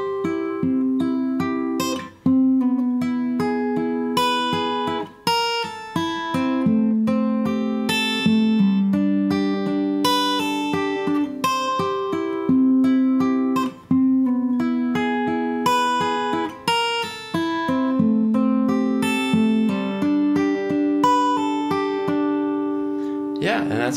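Acoustic guitar verse riffs played at an unhurried pace, steady plucked notes and strums ringing continuously and close up, with no talking.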